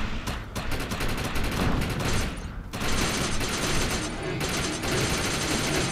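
Rapid automatic gunfire in the video game Defiance, dense bursts of shots with short gaps, loud and continuous throughout, no talking.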